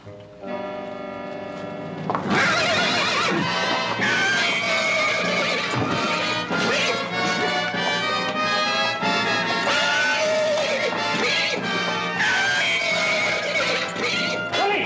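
A loud, drawn-out horse whinny rises and falls over a steady clatter of hooves and background bustle, continuing strongly for most of the stretch.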